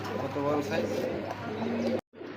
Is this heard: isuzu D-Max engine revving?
no